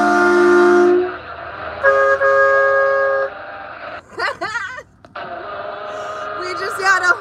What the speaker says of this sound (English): We just had a horn honking competition just now.